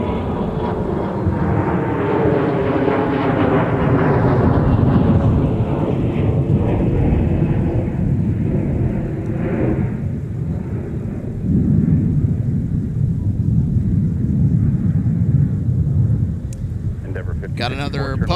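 A small regional passenger plane departing MSP airport: a loud jet roar that swells and sweeps downward in pitch as the aircraft climbs away, fading in the second half, with a voice talking over part of it.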